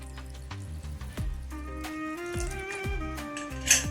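Water pours into a pressure cooker holding chana dal, a close gurgling stream whose pitch rises steadily as the vessel fills, with a few metallic clinks along the way.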